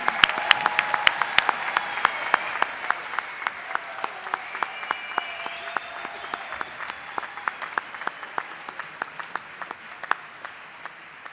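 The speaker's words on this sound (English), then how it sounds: "Please join me in recognizing these impressive individuals for their accomplishments by offering a round of applause." Sustained applause from a large commencement audience honoring graduates, dense clapping with sharp individual claps standing out, steady and fairly loud throughout, with faint murmuring in the crowd.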